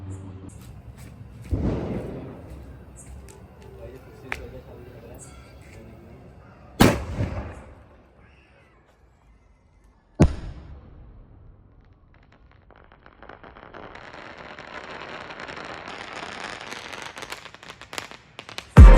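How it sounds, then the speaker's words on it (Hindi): Diwali sky shot fireworks go off outdoors, with several sharp sudden bangs spaced seconds apart, followed by a crackling hiss that builds toward a final loud pop. "बहुत ही खतरनाक स्काई शॉट था ये वाला"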